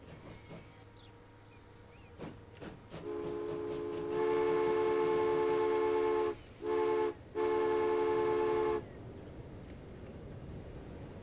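In the Transport Fever game, a train rumbles along, then its horn blares loudly in a long blast, briefly breaks twice and resumes before fading out to quiet rolling noise.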